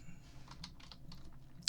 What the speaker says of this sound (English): enough to actually pick up the squeaky keyboard that I can hear